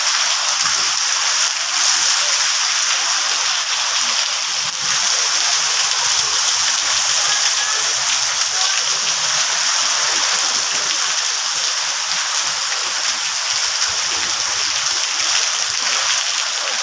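Rainwater flows steadily during a rain shower, a continuous broadband rush of running water that holds an even, close level throughout with no distinct splashes or voices.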